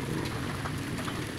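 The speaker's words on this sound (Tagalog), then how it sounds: "diretso gid ang ulan jud" Heavy, continuous rain pours down in a steady, unbroken wash of hiss and patter with no pauses, loud and close.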